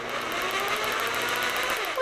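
A jigsaw buzzes steadily and close by, a fast mechanical chatter with a whining edge that holds without a break.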